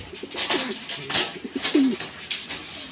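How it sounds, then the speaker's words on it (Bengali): A female pigeon of a top-quality imported fancy breed coos close by in a few short, low rolling calls, with faint talk and handling noise in the background. "একদম টপ কোয়ালিটি একটা মাদি কবুতর"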